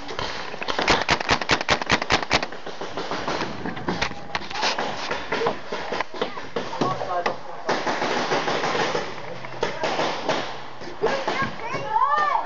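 Rapid bursts of paintball marker shots fired outdoors during a paintball game, a quick run of sharp cracks followed by scattered pops, with shouting and talking from players mixed in.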